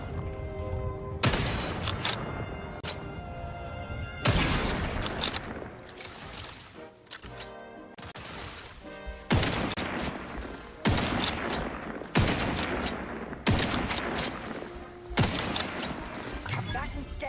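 Sniper rifle fire in The Outer Worlds 2, loud blasts repeating every couple of seconds under dense battle noise and game music, with a voice talking throughout.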